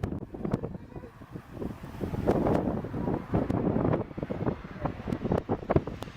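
Strong crosswind buffets the microphone during an aircraft's landing approach, a loud, gusty roar with irregular thumps and surges and no voices.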